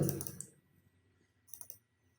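Faint, quick computer mouse clicks in a quiet room: a soft cluster at the start, then a tight burst of two or three clicks about a second and a half later, with no voices.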